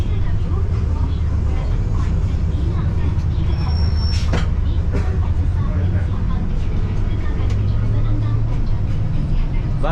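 A free city bus rolls through Kuala Lumpur at night, its engine drone and cabin rumble steady and loud, with scattered knocks, rattles and a brief high squeal mid-ride.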